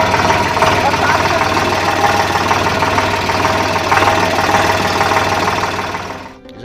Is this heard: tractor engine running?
yes